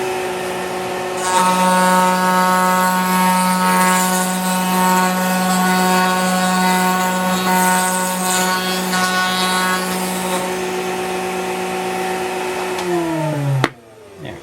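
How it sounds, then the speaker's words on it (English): A wood router fitted with a 1/4 inch round over bit whines steadily as it trims a wood edge, a loud sustained tonal drone that winds down and stops near the end. "1/4 inch round over bit in there. We're going to go around just to take a little bit off the edge"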